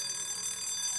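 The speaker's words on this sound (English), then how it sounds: "ding ding, the bell." A boxing ring bell sounds in the Fallout 76 video game, a sustained bright ringing that carries steadily through the whole moment with no talking over it.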